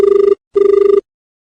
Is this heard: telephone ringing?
yes